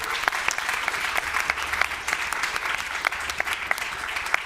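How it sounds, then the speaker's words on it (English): Audience applause for panelists at the close of a music industry conference panel, a steady wash of clapping from a modest crowd with faint music underneath. "Round of applause for everybody."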